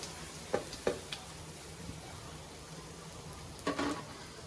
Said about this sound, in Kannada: ಅಷ್ಟನ್ನು ಈಗ ನಾನು ಆಯಿಲ್ಗೆ ಹಾಕಿ ಫ್ರೈ ಮಾಡ್ಕೊತಿದ್ದೀನಿ